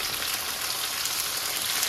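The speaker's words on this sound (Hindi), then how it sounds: "फ्राई कर लेते हैं।" Mushrooms frying in a pan for mushroom chilli, giving a steady, even sizzle and crackle of hot oil, close and moderately loud with no talking.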